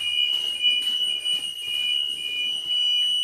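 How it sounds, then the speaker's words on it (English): A school bus warning buzzer sounds during a pre-trip inspection, a loud steady electronic tone held almost continuously, with brief dips, and no talk over it. "I hear the buzzer."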